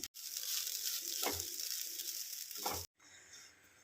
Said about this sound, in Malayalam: ഇനി നമുക്കിത് ചെറിയ തീയിട്ട് നല്ലപോലെ വറുത്തെടുക്കാം